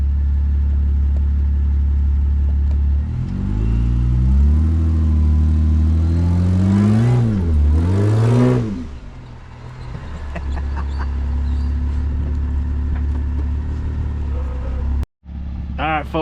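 A Jeep engine revs hard and climbs in pitch while yanking another vehicle on a 1-inch kinetic tow rope, surging loudly through the middle of the pull, then easing back to a steady idle rumble.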